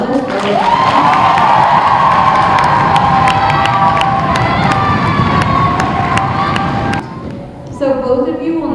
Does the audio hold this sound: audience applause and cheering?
yes